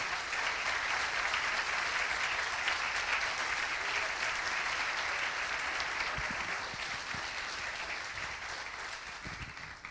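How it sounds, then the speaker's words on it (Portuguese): A church congregation applauds in a long, steady wash of clapping, fairly distant and even, gradually tapering off toward the end. "Então vamos aplaudir ao Senhor"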